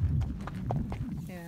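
A Tennessee Walking Horse walks downhill on a trail, its hooves giving a soft, fairly steady clip-clop close by, with a person talking over the steps.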